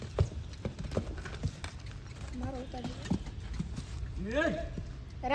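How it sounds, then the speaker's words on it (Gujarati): Horse hooves clip-clopping on the ground as a horse jumps at a village fair, with irregular thuds, a brief neigh and people talking and calling in the background. "ઘોડો કૂદવે"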